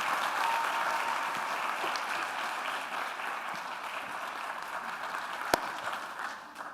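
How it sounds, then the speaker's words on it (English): Sustained audience applause fills a fall convocation hall, a steady wash of many hands clapping at moderate distance, with one sharp click near the end before the clapping begins to taper. "How about another round of applause for our MC and our student performer?"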